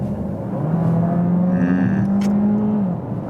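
A car engine revs up steadily at full throttle from a rolling start at 60, its droning pitch rising and holding loud and close for a few seconds.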